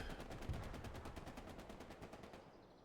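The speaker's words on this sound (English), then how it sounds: "Whole MG just going hard at something." A tank-mounted machine gun in Hell Let Loose fires one long, rapid burst of evenly spaced shots for about two and a half seconds. It is heard at a distance and at fairly low volume.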